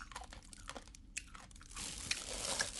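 Someone crunchily chews a Korean dried radish side dish that was briefly soaked and seasoned, giving close, quiet, crisp bites and chewing crunches that grow denser toward the end.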